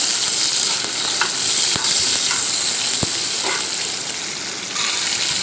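Sliced tomatoes and carrots added to a pan for chilli chicken, sizzling loudly and steadily up close, with a couple of sharp utensil knocks and soft stirring scrapes over the hiss.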